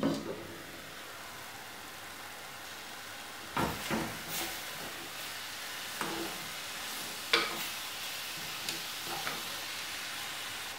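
Spice paste heating in a covered pan on the stove for Kerala-style anchovy peera: a soft low hiss throughout, broken by a few sharper knocks and clatters, fairly quiet and close, no voices.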